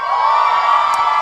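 At a youth conference in a hall, an audience of LASU students screams and cheers loudly and steadily, making a dense, sustained crowd roar.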